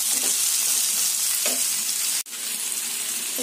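Vegetables with chili powder sizzle steadily in a pan while being cooked for lunch, a loud continuous hiss with a couple of soft stirring knocks and one sharp click near the end.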